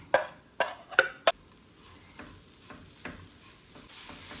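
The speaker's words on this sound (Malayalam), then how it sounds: "ആ തേങ്ങയും ഒന്ന് വഴണ്ട് വന്നു കഴിയുമ്പോഴത്തേക്കും നമുക്ക് ഈ ചിരണ്ടി വെച്ചേക്കുന്ന ശർക്കര ഇട്ട് കൊടുക്കാം." A spoon stirs coconut, cardamom and jaggery filling in a pan, with four sharp scraping knocks early on, then softer stirring strokes over a faint steady sizzle.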